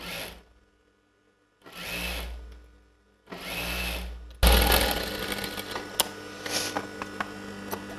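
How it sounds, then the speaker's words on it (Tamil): A sewing machine stitches designer blouse fabric on its wrong side, whirring in two short bursts with pauses, then running steadily and loudly with a rattling mechanical hum. "இது வந்து ராங் சைடில் வச்சு நான் ஸ்டிச் பண்ணுறேன்."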